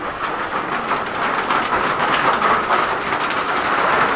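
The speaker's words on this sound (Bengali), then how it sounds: "এখন আবার বৃষ্টি আসতেছে এই যে দেখো বৃষ্টি আসতেছে" Rain falling outside, a dense, even hiss of steady rainfall that stays loud and unbroken throughout, with no voices.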